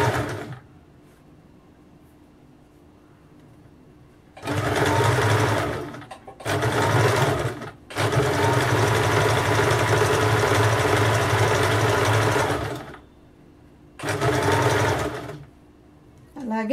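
A sewing machine stitches a simple pattern blouse in several loud, close bursts of varying length, separated by quiet pauses.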